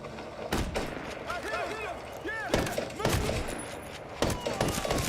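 Video game gunfire crackles in repeated loud bursts, with rapid overlapping shots and a few heavier blasts spread across the stretch, joined by thin whistling game effects, all fairly close and dense.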